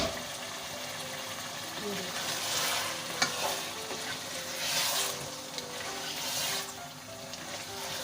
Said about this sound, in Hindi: थोड़ी देर हम इसको ढक देंगे और 2 से 3 मिनट हम इसको भूनेंगे